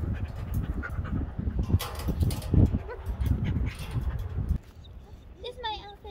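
A dog yips and whimpers amid busy talk and handling noises, with a few short high-pitched cries near the end.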